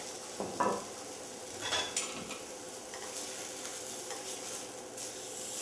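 Steaks sizzle steadily in a frying pan as they are flipped for Steak Diane, a constant hiss broken early by a few clanks and scrapes of a utensil against the pan.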